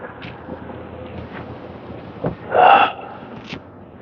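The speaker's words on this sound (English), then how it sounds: "you can hear me exhaling" A forceful "ha" exhale during a tai chi session for arthritis and fall prevention, one breathy burst near the end of the clip that stands out over quiet room background.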